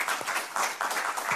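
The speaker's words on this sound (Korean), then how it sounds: "박수로 부탁드립니다." An audience at a lecture gives brief applause to welcome a speaker, a soft, fairly distant patter of clapping lasting just over a second.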